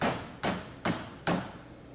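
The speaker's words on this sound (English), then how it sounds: "remove the entire main shaft out of the pump by tapping with your hammer" A hammer taps the main shaft out of a Cretefill pump during disassembly, giving four sharp, evenly spaced metallic knocks about every 0.4 seconds, close up and alone.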